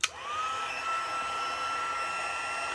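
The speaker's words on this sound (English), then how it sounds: "All right, heat tool. Here we go. Might get a little noisy" An embossing heat tool whooshes on with a sharp start, then blows steadily with a high whine, a constant airy roar close up with no talking.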